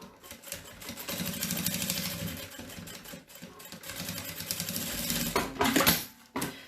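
A sewing machine runs a single seam through fabric with right sides facing, a steady close mechanical whir lasting several seconds before slowing and stopping with a few brief rattling bursts near the end.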